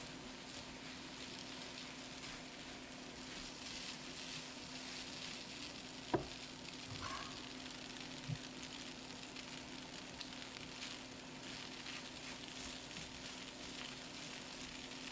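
Noodles fry and get stirred in a pan, giving a faint, steady sizzle throughout with a couple of soft knocks from the stirring.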